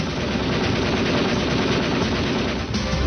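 A Browning machine gun fires in a sustained automatic burst, a dense, rapid stream of shots that stays loud and unbroken for several seconds with a brief gap near the end.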